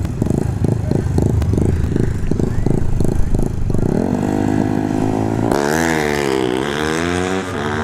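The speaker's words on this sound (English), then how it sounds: "All right, we got a mini bike here." Mini bike engine on a drag strip, first a choppy pulsing idle, then a rising rev that builds into a loud, high, buzzing run as it launches and pulls away.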